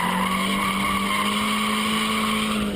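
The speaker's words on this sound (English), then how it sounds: "and the car will start to slide" A drift car in Kentucky slides with its rear tires losing traction, a continuous loud tire squeal over a steady engine drone, with no voices.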